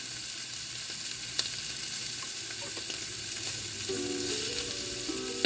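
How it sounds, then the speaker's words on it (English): Steady sizzling of ham frying in a pan sprayed with olive oil, a continuous crackling hiss with occasional pops, heard up close with no talking. "cooking up the ham, frying up the ham"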